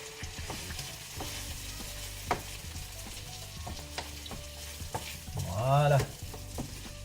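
Pre-cut leeks fry in chicken curry pan juices, sizzling steadily with scraping stirs, and a louder hiss swells near the end.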